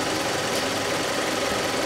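A warm Toyota Noah 3S-FE petrol engine, 2000 model, idling steadily with a close, constant mid-pitched hum and faint knocking under the hood, no talk.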